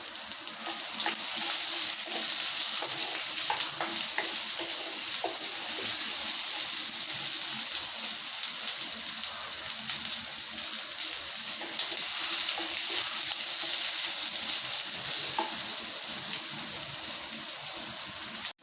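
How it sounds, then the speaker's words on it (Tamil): Onions sizzle in hot oil in a pan after garlic, cooking for a Tamil okra tamarind curry, a steady bright frying hiss that fills the whole stretch with small crackles and no talk. "நான் ரெண்டு வெங்காயம் பொடிசாக கட் பண்ணி நீளமாக கட் பண்ணியிருக்கேன் போட்டுடலாம்"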